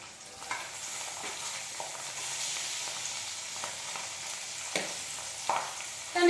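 Boiled, mashed green peas are added to a hot seasoned pan and stirred, producing a steady gentle sizzle with occasional scraping knocks of a spoon.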